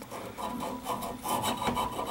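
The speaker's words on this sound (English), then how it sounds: "And then I'm gonna lightly sand it with clean sandpaper." Aluminum lightly sanded with clean sandpaper, a soft scratchy rubbing in short back-and-forth strokes, close and fairly quiet, with no talk.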